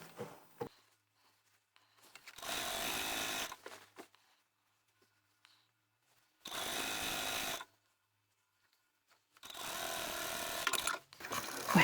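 A domestic sewing machine hems a tablecloth with straight stitches, running in three steady bursts of a few seconds each with quiet pauses between, close and fairly loud, with no talking.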